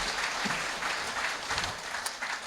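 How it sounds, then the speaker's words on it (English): Audience applause at a regional sports awards evening, a steady dense wash of clapping at moderate distance with no distinct individual claps standing out, continuous for the whole stretch. "know you've been giving them a round of applause"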